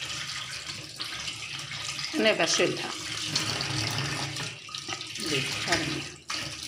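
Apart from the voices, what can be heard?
water running from a tap while cleaning catfish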